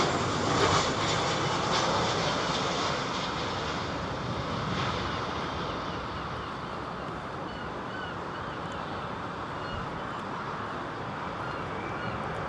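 An Airbus Neo airliner departing London Heathrow produces a broad, steady engine rumble that fades gradually from a louder start, distant and continuous, with no voices over it.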